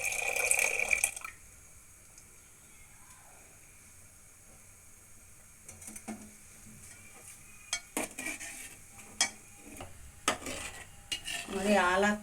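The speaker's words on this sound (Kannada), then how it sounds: "ಹಾಲು ಹಾಕ್ಕೊಂಡು ಚೆನ್ನಾಗಿ ಬೆರೆಸ್ಕೊತಾ ಇದ್ದೀನಿ" Milk being stirred into sago payasa in a cooking pot, with a spoon scraping and clinking against the metal in sparse, irregular strokes, louder at the start and end, and soft liquid sloshing between; no one speaks.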